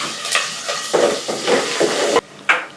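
Freshly pounded ginger and shallots dropped into a hot pan, giving a string of sizzling bursts with stirring and tapping noises, loud and close, with a brief gap near the end.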